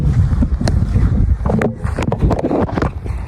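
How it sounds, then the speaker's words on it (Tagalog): Strong monsoon wind buffets the microphone in heavy, gusty bursts, loud and rumbling, with a few rattles and flaps mixed in. "Grabe, ang lakas ng hangin talaga guys."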